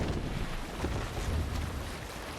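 A sailing ship at sea in the video game Assassin's Creed Valhalla, with the sail being run up. Steady rushing wind and water wash keep up a continuous full roar from start to end.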